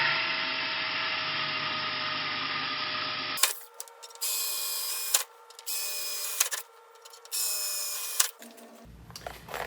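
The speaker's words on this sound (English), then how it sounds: "drilling holes where I know there's metal to metal to metal" A power drill bores through the steel of a weak garage door, metal layered on metal, in loud sustained bursts separated by short pauses, with the pitch of each burst shifting.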